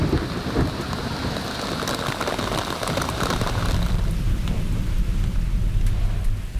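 Sudden heavy rain pours down in Dhaka with a rumble of thunder, a steady dense hiss of rain on surfaces with deep low booming underneath, loud and continuous throughout with no voices.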